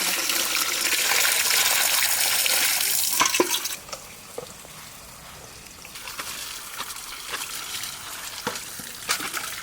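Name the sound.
water running while washing vegetables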